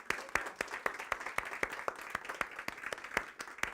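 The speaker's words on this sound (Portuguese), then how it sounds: "uma salva de palmas para vocês." A small audience applauds during a free online class on emotional interpretation through teeth, with sparse, distinct claps in a loose steady rhythm, fairly close and moderate in volume, with no talking over them.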